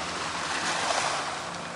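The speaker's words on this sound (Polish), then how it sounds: "Fale się rozbijają o skały, fale." Rough sea surf crashes on rocks at Drvenik, Croatia in a broad, steady roar, the water churning and breaking nearby with a slight swell in the middle.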